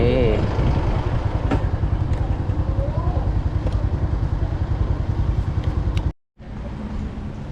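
A motorcycle rolls up and parks at the Hmong market of Ban Huai Luek in Chiang Dao, Chiang Mai. A close, steady putter of its engine has a voice over it, then cuts out abruptly before the idle resumes more quietly.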